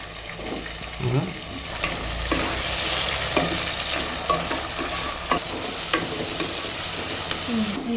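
Onions and tomatoes fry in a pan for egg biryani, a close, steady sizzle with repeated stirring scrapes and sharp utensil taps against the pan throughout.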